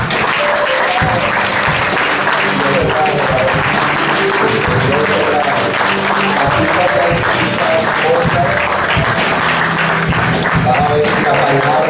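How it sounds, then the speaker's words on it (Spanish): Church congregation gives loud, energetic applause, dense clapping close and continuous throughout, with faint voices and musical tones mixed underneath. "Denle fuerte aplauso a ustedes."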